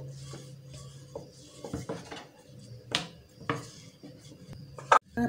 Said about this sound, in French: Aplatir toutes nos tranches.